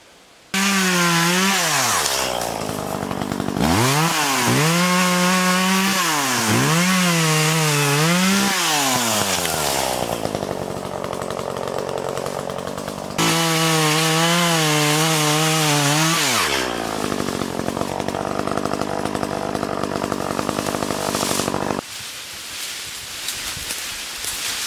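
A loud chainsaw cutting through thick brush revs up and down repeatedly, its engine pitch rising and falling as it bites in, then idles and cuts out near the end as it runs low on gas.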